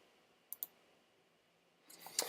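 Mouse clicks on a computer while working in DaVinci Resolve color grading software: two faint, quick clicks close together early on, then a louder cluster of clicks near the end, with a quiet room behind them.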